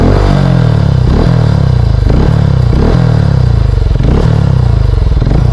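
A motorcycle fitted with an aftermarket exhaust idles and blips loudly up close, a deep throbbing note with rhythmic surges about once a second and a metallic rattle riding on top.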